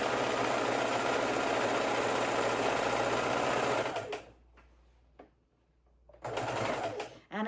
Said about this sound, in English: I'm just going to go ahead and sew together the 4 patch strips.